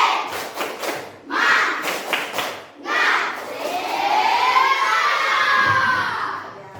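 Schoolchildren in a classroom shout a rhythmic spirit clap chant together in several loud bursts, followed by a sustained stretch of excited group shouting and cheering close by.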